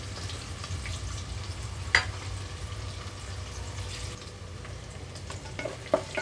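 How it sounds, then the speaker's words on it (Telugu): Onions and green chillies fry gently in a pan for mushroom biryani, a faint, low steady sizzle with a couple of soft clinks or stirring taps. "ఉల్లిపాయలు కలర్ మారే వరకు వేయించుకోవాలి."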